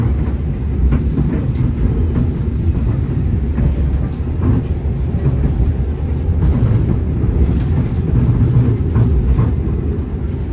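Interior of the KA Lodaya economy train running through Lebak Jero station on the Bandung–Jogja line: a steady, loud low rumble with faint rhythmic wheel clatter throughout, no talk.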